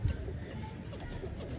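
Pigeons cooing softly in a low, murmuring tone beneath steady background noise, faint and continuous through the short stretch.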